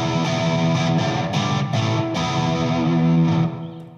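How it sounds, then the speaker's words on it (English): Electric guitar played through an effects unit set to a full American-style distortion, a thick sustained overdriven chord tone with a few picked accents, loud and close, fading out at the end. "And then there's a full American distortion,"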